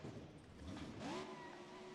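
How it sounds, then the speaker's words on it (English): The 540 cubic inch Merlin engine of the Gravedigger monster truck revs at a freestyle show in Syracuse, rising in a rough climbing pitch then settling, heard from a distance and fairly faint under crowd ambience. "How about a little revving up for the fans?"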